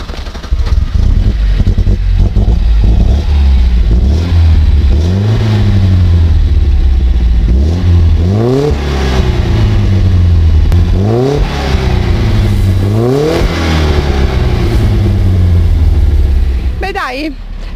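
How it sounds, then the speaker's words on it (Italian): A vintage classic car engine at a historic car show is started and revved repeatedly, loud rising and falling roars in bursts over a rough idle, with people talking around it. "perché non ci fa sentire un po' il rombo di questo, certo, gioiellino?"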